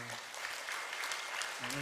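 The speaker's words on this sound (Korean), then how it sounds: "박수 해주시기 바랍니다" A church congregation applauds with steady, dense clapping at a Bible study completion ceremony during Sunday service, and a voice is briefly heard at the start and end.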